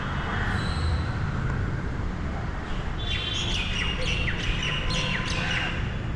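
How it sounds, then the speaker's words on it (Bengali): Several birds chirp and tweet in quick, repeated bursts over a steady low rumble of distant traffic. "এত সুন্দর পাখির আওয়াজ"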